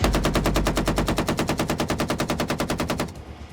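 Rapid automatic gunfire from prop guns on an action film set, a loud, steady burst of about thirty evenly spaced shots that stops abruptly near the end, leaving a faint ambient tail.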